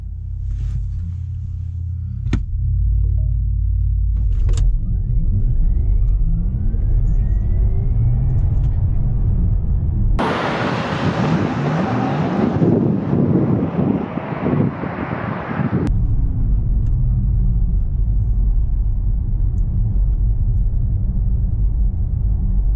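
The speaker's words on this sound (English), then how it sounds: "this is why I'm gonna use my draggy and see how fast it really is." Porsche Taycan Turbo electric car accelerating hard from inside, a rising whine and road rumble surging loud for several seconds mid-way, with wind roar over a steady cabin drone and some talking.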